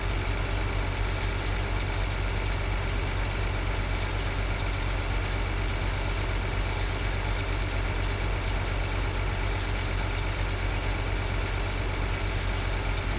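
A tractor engine idles steadily in the Farming Simulator 2013 video game, a constant near drone with a low rumble that holds unchanged throughout, with no voices.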